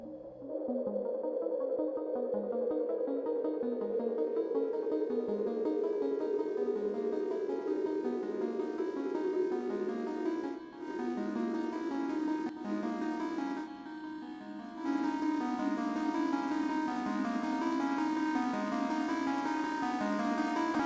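A sustained synth tone whose timbre gradually shifts and darkens as one wavetable fades into another, with brief dropouts midway, playing alone.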